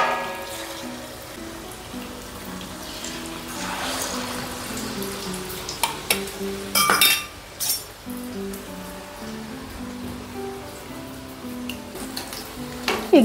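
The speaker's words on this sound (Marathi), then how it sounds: "आता हे सगळे सुकुरुंडे आपण तेलात फ्राय करून घेऊया।" Sukurunde dumplings frying in hot oil over a low flame, a steady soft sizzle with occasional clinks of a utensil against the pan.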